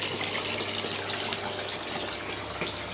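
Water gushes steadily in a home aquaponics system, a continuous splashing flow with no pauses.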